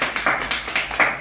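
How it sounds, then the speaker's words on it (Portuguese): A few people clap a handful of times at a family gathering where a gift is being given, short and close, with no talk over it. "Uma salva de palmas especiais."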